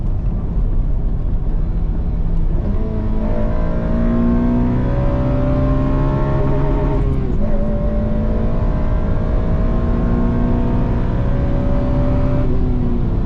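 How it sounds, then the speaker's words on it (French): A tuned, modified car's engine revs up and down in long sweeping surges, loud and close, with a brief drop and a roar back up before settling. "je vais te faire écouter le bruit du moulin un peu"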